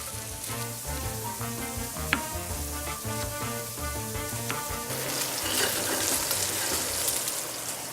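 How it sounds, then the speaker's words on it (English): Bacon lardons sizzle and crackle in a hot pan while frying until crispy, a steady dense hiss with scattered pops and faint utensil clinks under background music, no talk. "Just like with any bacon, you want to kind of get it crispy and let the fat crisp up a bit."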